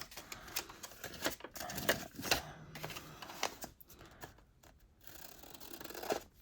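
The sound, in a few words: trimming wrapping paper to fit an envelope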